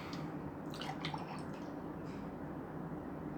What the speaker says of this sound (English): Pour the drinks.